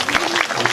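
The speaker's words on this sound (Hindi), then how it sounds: "ताली बजाओ ना" Brief burst of audience clapping at a Ramayan performance in its fiftieth year, a few uneven claps rising and falling over a crowd murmur.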